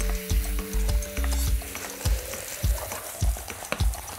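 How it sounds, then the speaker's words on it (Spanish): Vegetable bolognese made entirely of vegetables sautéing in a pan for lasagna, with soft sizzling broken by repeated knocks and scrapes of a utensil against the pan, alongside a faint tonal background. "Dejamos sofreír un pelín"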